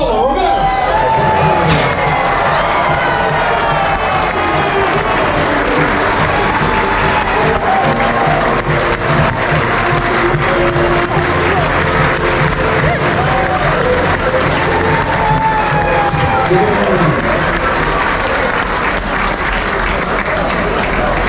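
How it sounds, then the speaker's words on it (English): Aboard the Sapphire Princess cruise ship, an evening audience applauds the ship's captain with a loud, sustained clapping wash and some cheering that holds steady throughout. "give a thunderous round of applause for the master of the Sapphire Princess, Captain Paolo Romero."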